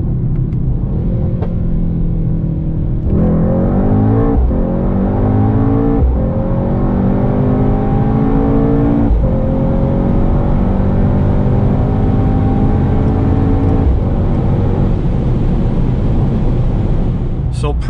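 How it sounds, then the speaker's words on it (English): A 740 hp Mercedes-AMG GT63s 4-Door accelerating hard from 100 to 200 km/h, the close, loud engine rising in pitch through several gears with brief dips at each upshift, heard from inside the car. "Let's now see how fast the car goes from 100 to 200."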